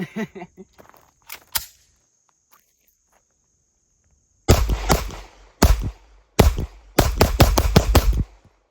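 An MPA Defender gun fires a string of rounds: loud, close, sharp shots in short bursts and quick rapid sequences with brief pauses between them, after some faint handling noise.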